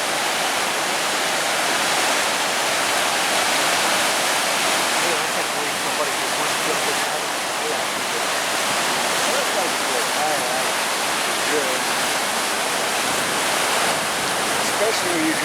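A waterfall on the Delta River in Alaska roars as a loud, dense and constant wash of rushing water that fills the whole scene without a break.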